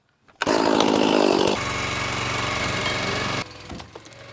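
Split-Fire log splitter with a freshly installed piston, its small engine roaring loud and close as it splits wood, then settling into a steady, slightly lower drone before cutting off.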